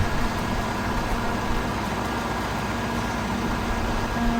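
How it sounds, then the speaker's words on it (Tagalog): Car air-conditioning auxiliary fan motor spinning fast after repair, a steady close whirring hum with a faint tonal whine, continuous and even throughout with no talk. "mabilis na po yung ikot ng motor kumpara po kanina"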